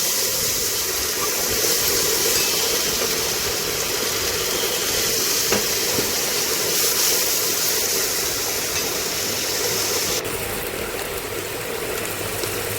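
Spices with turmeric, green chili paste and a little water sautéing in a pan for Bengali fish curry, a steady soft sizzling hiss running throughout, close and even, without speech.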